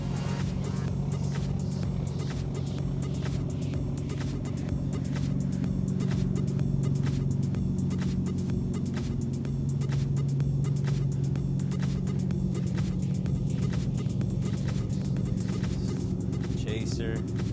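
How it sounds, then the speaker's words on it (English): A turbocharged Toyota Supra rumbles loudly nearby, its engine revving and swelling as it drives past, with people talking over the noise. "Turbo Supra."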